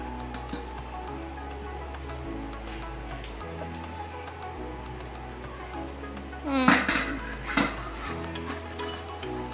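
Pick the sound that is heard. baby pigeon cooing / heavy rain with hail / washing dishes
washing dishes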